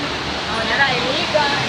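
Steady broadband roar of a waterfall at a park in Dapitan City, a continuous rushing wash of falling water heard close and loud, with faint voices mixed in.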